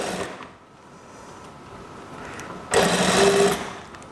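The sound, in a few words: sewing machine stitching a kimono dress seam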